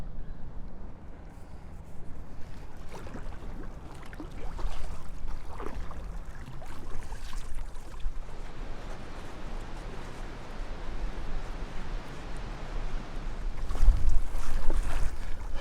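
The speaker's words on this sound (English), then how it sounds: "Wind is really picking up around this corner." Steady wind gusting around a corner near the Golden Gate Bridge in San Francisco, a broad continuous rush with mic buffeting that swells louder toward the end, no voices.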